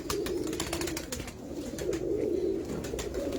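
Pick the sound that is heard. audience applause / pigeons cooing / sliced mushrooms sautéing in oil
pigeons cooing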